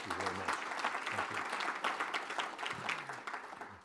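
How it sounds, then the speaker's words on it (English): Audience applause for the Director of National Intelligence at a security conference, a dense, steady wash of clapping that holds for several seconds, with a few voices faintly mixed in. "I actually would like everyone to applaud the Director's leadership and his outstanding service to our country"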